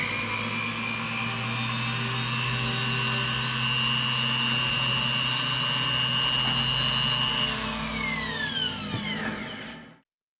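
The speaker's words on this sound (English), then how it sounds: "After we finish with that radial bristle disc, you can see it does a really nice job of removing that surface layer of oxidation that's on these parts." A radial bristle disc on a power tool works oxidation off motorcycle parts, a steady loud high-pitched whine with a grinding buzz underneath that holds for about eight seconds, then winds down and stops abruptly.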